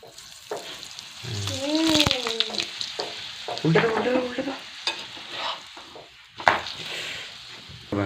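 Parathas frying on a pan at an outdoor family picnic in early winter, a soft continuous sizzle with scraping and stirring strokes and an occasional clack, while voices talk briefly and a melodic voice rises over it.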